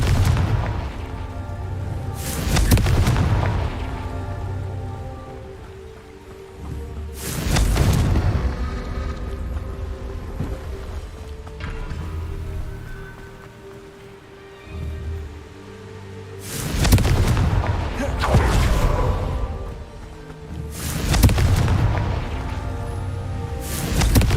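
Confringo spell blasts from the Hogwarts Legacy video game sound as several deep, booming explosions spaced a few seconds apart, each swelling and then rumbling away over a low, constant background.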